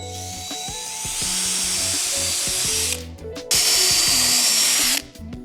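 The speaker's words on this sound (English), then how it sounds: "I'm gonna go ahead and sink a second screw into each," A power drill drives screws into the wooden frame of an outdoor barrel and cabin sauna, running in two long loud bursts with whining motor pitch changes, a brief pause between them, then stopping near the end.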